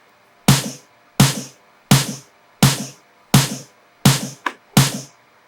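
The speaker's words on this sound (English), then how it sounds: "we introduce some more like heavy snares" Seven heavy, punchy snare hits ring out one after another at an even, unhurried pace, each loud, close and quickly decaying, with a small extra hit tucked in just before the last one.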